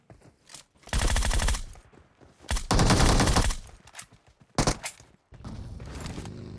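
Automatic gunfire in PUBG Mobile, three loud rapid bursts of machine-gun fire separated by short gaps, close and punchy, with faint game noise between them.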